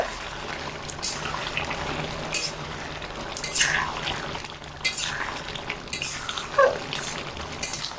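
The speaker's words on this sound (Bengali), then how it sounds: "ঘি দিয়ে একটু নেড়ে দেবো" Shukto vegetables stirred with ghee in a pan on the stove give a soft, steady sizzle with scraping and occasional clinks of a spoon against the pan at moderate volume.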